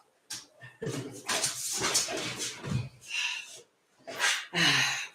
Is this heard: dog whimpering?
yes